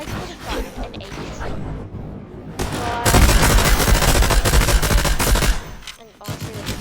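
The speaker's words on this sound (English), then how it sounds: "that's the Twin Mag SMG" Rapid, loud bursts of Twin Mag SMG fire from a video game, opening with a shorter volley and then a long continuous stream of close, sharp automatic shots before cutting off, followed by a brief final burst.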